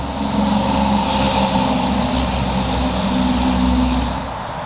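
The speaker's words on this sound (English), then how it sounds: "Here comes the truck." A truck rolls past a small permaculture garden bed, its engine droning loud and near for a few seconds with a steady tonal hum before easing slightly, no one talking.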